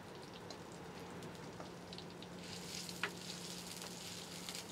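Sea cucumber sautéing in a pan for a Sri Lankan curry, giving a steady soft sizzle and crackle with faint stirring scrapes, close and moderately quiet, with no talking.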